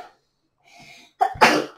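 A single sharp sneeze rings out close by, preceded by a faint intake of breath, with no talking during it.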